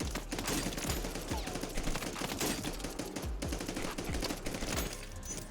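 Rapid, dense gunfire from a Renetti pistol in the video game Warzone, close-range shots cracking in quick clusters and bursts with short gaps, loud and continuous throughout.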